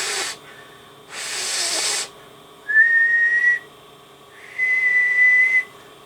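Two sustained whistled tones into a microphone on the bench with a Dentron MLA-2500B amplifier, each about a second long with a pause between, alternating with short breathy hissing bursts, close and fairly loud.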